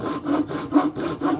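A hand saw cuts through wood in steady back-and-forth strokes, about four rasping passes in under two seconds, close and clear with no talking.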